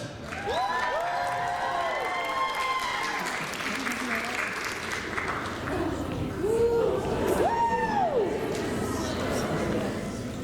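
Crowd at an Asian dance showcase at an anime convention cheering and applauding for idol-group dance performers, a steady wash of clapping with shouts and whoops rising over it, loud and sustained throughout with voices mixed in.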